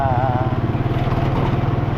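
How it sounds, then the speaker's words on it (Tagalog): A motorcycle engine runs loud and close, a steady rough putter with a fast even pulse. "Pag ini-start ko yung motor ko"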